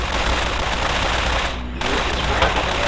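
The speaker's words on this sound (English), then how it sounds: "for close-range suppression and crowd control, we have this handy-dandy 9mm submachine gun" Rapid continuous bursts from a 9mm submachine gun in Fallout New Vegas, a dense, loud stream of shots with a brief gap before firing resumes, no talk.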